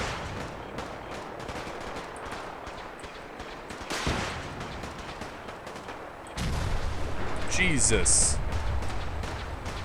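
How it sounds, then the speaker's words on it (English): Gunshots in the video game Fallout 4, a near-constant patter of distant and nearby rifle and machine-gun fire with a louder burst later, under a player's occasional voice. "there's a lot of shooting going on"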